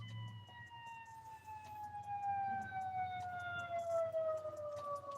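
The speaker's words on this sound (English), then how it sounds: "there's a freaking ambulance coming" An ambulance siren wails on the road with a rising and falling tone, growing louder and nearer over several seconds above steady traffic rumble.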